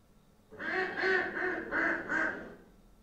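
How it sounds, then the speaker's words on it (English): Duck quacking played through an Alexa smart speaker: five evenly spaced nasal quacks at moderate volume, alone after a brief quiet start. "What sound does a duck make?"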